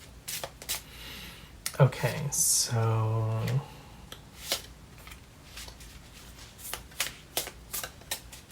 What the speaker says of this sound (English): we're doing the shuffling of the tarot on the camera here